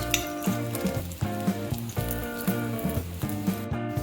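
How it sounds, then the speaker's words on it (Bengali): A paratha frying with a little oil spread around it in a pan, giving a steady close sizzle with soft crackles and occasional clinks of the utensil. "একটু তেল চারদিক দিয়ে ছড়িয়ে দিচ্ছি পরোটাটাও যাতে একটু ভাজা ভাজা ভালোভাবে হয়ে যায়"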